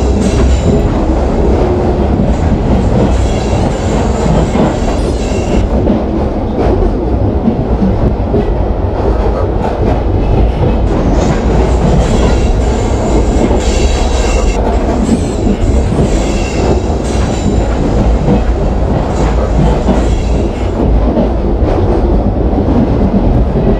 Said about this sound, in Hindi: नौपुरा ट्रेन प्लेटफॉर्म से निकल चुका है और हम लोग 40 का स्पीड अचीव कर लिए